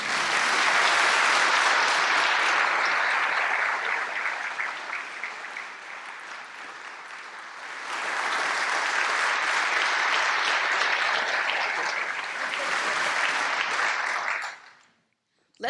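Applause from a crowd at an aerospace awards gala rolls on loudly, dips softer midway, swells again, then cuts off near the end, with some voices mixed into the clapping.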